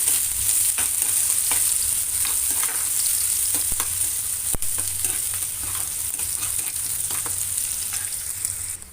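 Onion and cumin sautéing in oil in a pan, a loud continuous close sizzle with intermittent stirring scrapes throughout, no talk.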